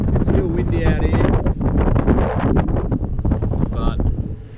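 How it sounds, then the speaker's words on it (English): Strong coastal wind roars against the microphone in heavy gusts, with faint voices and clattering underneath, easing slightly at the end. "it's still windy out here"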